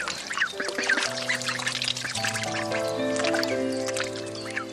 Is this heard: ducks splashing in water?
yes